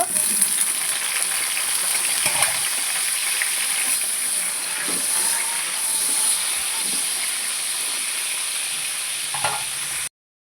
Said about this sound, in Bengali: সেই তেলটাই আমি এবার বেগুনগুলো দিয়ে ভালো করে একটু লাল লাল করে ভেজে নেব